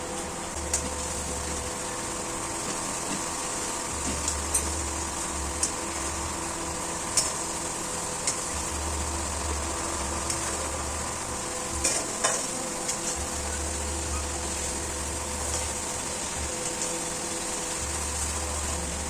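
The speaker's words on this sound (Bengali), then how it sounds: "এবার কেটে রাখা পেঁয়াজগুলো সব দিয়ে ভালো করে ভাজা করে নিতে হবে।" Chopped onions fry in mustard oil with whole garam masala, a steady close sizzle with occasional clicks of stirring, while a low mechanical hum switches on and off beneath it.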